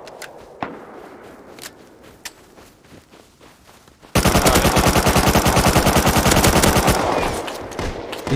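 Gunfire in the survival game Rust: scattered distant single shots at first, then a sudden loud, close burst of rapid automatic fire that runs for about three seconds before tapering off.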